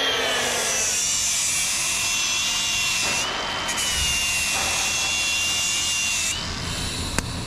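Power tool cutting to trim down Unistrut metal rollers: a loud, continuous high whine and grind close by, with brief shifts in pitch as the cut changes and a sharp tap near the end.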